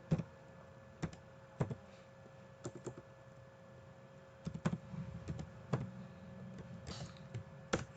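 Code is typed on a computer keyboard in irregular bursts of close, crisp keystrokes separated by short pauses, with clusters of quicker taps near the end.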